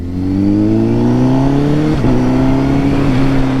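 A new motorcycle's engine revving while riding, loud and close, a continuous smooth drone that climbs steadily in pitch with a brief dip midway, no talking.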